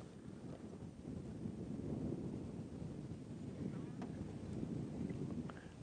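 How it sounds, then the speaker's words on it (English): Strong outdoor wind buffets the microphone in a steady, loud low rumble on an open savanna safari drive, with dust blowing and faint vehicle or water-like noise beneath. "And you can see how windy it is."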